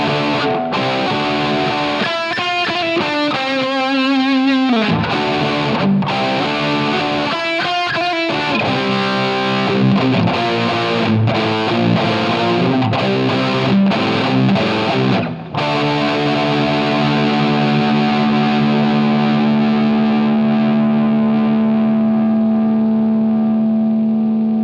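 A Donner Hush-X electric travel guitar played with heavy distortion and long sustain: chugging chords and riffs give way to a single held, ringing chord that slowly fades, loud and close with no talking.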